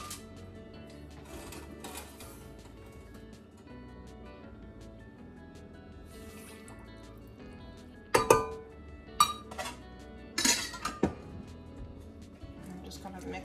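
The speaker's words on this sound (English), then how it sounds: "Get that vinegar and all the spices mixed together." Vinegar, sugar and spices for chow chow are stirred in a pot, with a quiet hum for the first stretch and then a cluster of sharp clanks and scrapes of a utensil against the metal pot, close by and mixed with speech.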